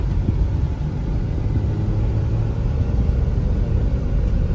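A 3rd gen Toyota 4Runner with 4WD conversion accelerates on an asphalt road, a steady loud low engine rumble and road roar from inside the cab, continuous and without breaks.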